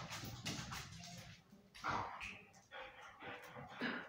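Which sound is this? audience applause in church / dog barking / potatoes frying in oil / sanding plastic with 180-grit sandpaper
dog barking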